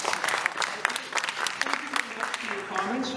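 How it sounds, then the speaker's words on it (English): An audience claps at a federal candidates' debate in Newmarket-Aurora, a scattered round of applause with distinct individual claps, moderately close and fairly quiet, with voices mixed in. "you can give everybody a round of applause"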